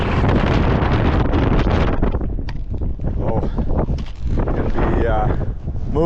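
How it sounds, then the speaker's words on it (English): Strong wind gusts buffeting the microphone on an exposed mountain saddle in a British Columbia park, loud roaring rumble that surges and dips, with a voice talking faintly in the second half. "the wind gusts are so strong they near blow you over"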